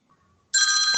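Phone ringtone bursts in abruptly halfway through after near silence, a loud, bright electronic ring holding steady to the end.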